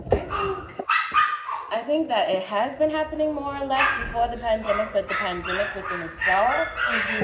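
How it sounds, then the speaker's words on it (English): Small dogs bark and yip repeatedly indoors, their sharp calls mixed in under someone talking steadily close to the microphone. "I just want y'all to excuse my dogs. They are very loud."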